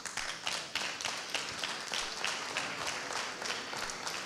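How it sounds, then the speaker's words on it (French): An audience applauding at an economics conference in Aix-en-Provence, a continuous wash of many hands clapping with rhythmic swells, heard from within a large hall. "N'hésitez pas à applaudir, hein, ça met de l'ambiance"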